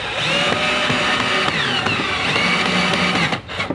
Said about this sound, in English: I tend to use a drill because it's a little faster